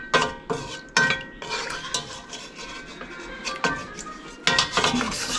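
A spoon scrapes and stirs pan juices in a pot of goulash, sounding as sharp, irregular metallic scrapes and clinks. They come in bursts of varying loudness, close up, with no talking.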